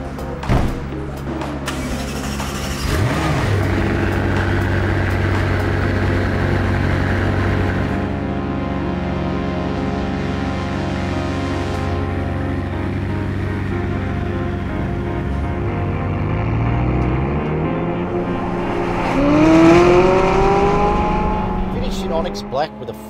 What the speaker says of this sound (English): let's get this 600LT on the road and see what she'll do